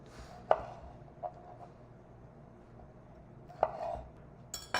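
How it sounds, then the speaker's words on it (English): A knife cuts cherry tomatoes in half for a salad on a cutting board, producing a few sharp, isolated taps spaced seconds apart against a quiet background, with no talking. "cut the cherry tomato in half"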